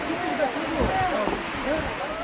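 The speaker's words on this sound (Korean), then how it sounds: "이게 유한창 폭포래요." The Yuhanchang waterfall, about 80 m tall, pours down beside a mountain trail in a steady broadband rush, with hikers talking over it.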